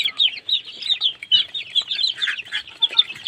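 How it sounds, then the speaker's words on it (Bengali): Chickens and large roosters on a poultry and quail farm cluck and chatter continuously, with many overlapping close calls and no talking. "খাবার জন্য বিভিন্ন ধরনের বড় সাইজের মোরগ, এই যে দেখুন"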